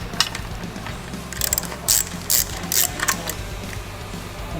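A ratchet wrench loosens the battery tray bolt on a Harley-Davidson Sportster, with several short bursts of rapid metallic clicking close by over a quiet garage background and no talking.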